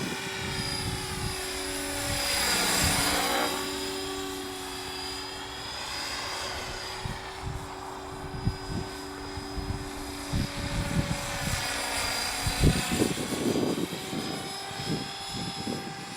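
Align T-Rex 500e radio-controlled model helicopter flying outdoors, a continuous whining rotor and motor drone that rises and falls as it passes, with wind buffeting the microphone.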